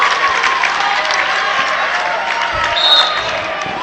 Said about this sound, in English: The fans for Munising are standing and clapping and urging your team on.